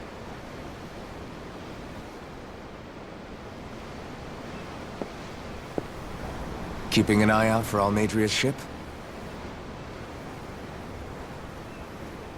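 Steady ocean waves in Tales of Arise, a constant soft wash of surf heard from aboard a ship, with a character briefly speaking over it midway.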